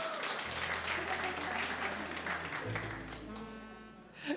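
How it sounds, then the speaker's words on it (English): Steady applause from a crowd at an evening event on challenging anti-Asian and antisemitic hate fills the space, a dense wash of clapping that holds even and then starts to fade toward the end. "Another round of applause for Queens District Attorney Melinda Katz."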